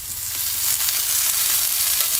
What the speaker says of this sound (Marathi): आपण हे कांदा लसूण आलं वगैरे आहे ना पूर्ण असं आपल्याला परतून घ्यायचं